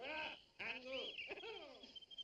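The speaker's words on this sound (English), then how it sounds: "Tom brought me a thrush. Oh, what a sweet song" A pet thrush sings in a period country-house setting, a bright warbling run of rising and falling whistled phrases close by, with a voice talking over part of it.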